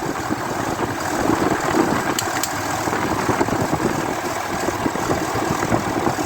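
A 2003 Dodge RAM 3500 Dually engine running nearby, a steady rough rumble with a faint rattling texture at an even idle, with no voices.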